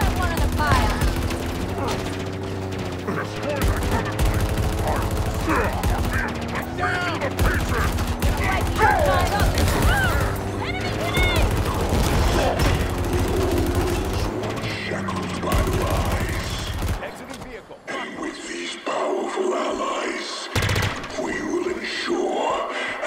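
A firefight in Halo Infinite rattles on for a long stretch, with bursts of gunfire and mechanical clatter under steady voices and music before it drops to a quieter, sparser tail.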